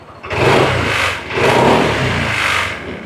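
Honda Click 160i motorcycle, a 2022 TOP ABS model with 2,000 km on it, revved with the throttle in a few close, loud swells that rise and dip, with no talk over them.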